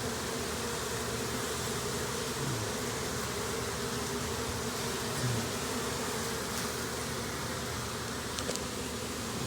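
Bees swarm in a gazebo, a dense steady buzzing drone filling the space continuously, moderately quiet with no talking.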